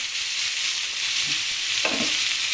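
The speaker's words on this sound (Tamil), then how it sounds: "அந்த உப்பு போட்டதுமே நல்லா வதங்கிடும்." Tomatoes and dal sauté in a pan with salt, giving a steady, close hiss of sizzling oil that carries through the whole stretch, with a brief stir or scrape toward the end and no voices.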